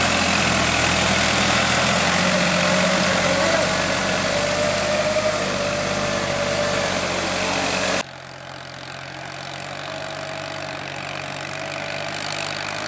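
A tractor engine idles steadily and loudly throughout, a continuous low mechanical drone; the sound dips in level partway through and then continues more quietly.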